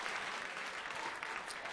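A comedy club audience claps in a short, steady burst of dense applause, heard faintly and evenly with no talk over it.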